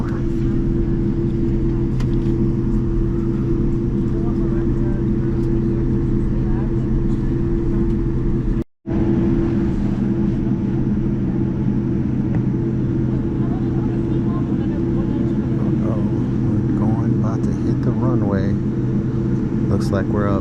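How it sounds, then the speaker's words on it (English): Inside an airliner cabin taxiing before takeoff on a Los Angeles to Tokyo flight, a loud, steady low engine and air-system drone fills the space, cutting out for an instant midway, while people talk faintly. "Looks like we're up next for takeoff."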